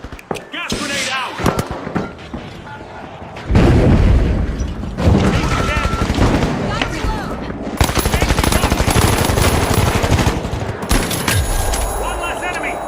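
Explosive booms and bursts of gunfire from The Finals, a gas grenade going off amid a loud, dense firefight with continuous rattling shots and impacts, heard under a voice talking.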